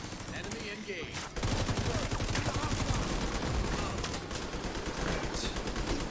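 Assault turret opening fire in The Division 2, a dense, steady stream of rapid automatic shots that starts abruptly and holds loud and close to the end, with faint voices mixed under it.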